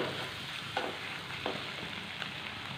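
An egg and wheat flour mixture being stirred and scrambled in a hot frying pan gives a steady, soft sizzle with occasional scraping strokes of a spatula, close and fairly quiet, with no voices.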